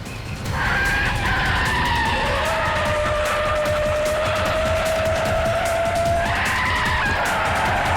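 Car tires skidding and squealing during a chase scene in a TV crime drama, a loud sustained screech that holds for several seconds over engine roar, with no talk.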